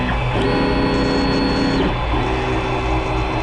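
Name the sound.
Creality Ender 3 Pro 3D printer printing a purge test line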